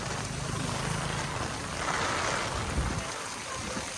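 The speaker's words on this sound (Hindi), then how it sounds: "बारिश की बूंदें पूरी चारों तरफ से घूम घूम के आ रही है।" Heavy monsoon rain with strong gusting wind on a city street in Tando Allahyar, a steady dense hiss of falling water with low rumbling wind buffeting, loud and continuous.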